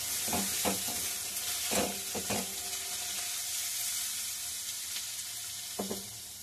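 Four cloves of garlic and a little ginger fry in a pan with cumin seeds, giving a continuous bright sizzle under several distinct scraping stirs of a spatula, near and clear.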